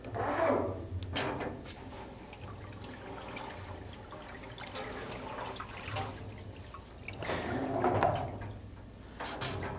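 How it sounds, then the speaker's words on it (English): Short bursts of water spray rinse a solder-paste stencil inside an ultrasonic stencil cleaning system, with a few separate hissing sprays and drips over a low mechanical hum, moderately faint. "Now we just spray rinse with a small amount of water."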